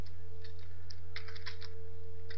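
Irregular clusters of keystrokes on a computer keyboard while C++ code is being typed, light clicks heard over a steady electrical hum.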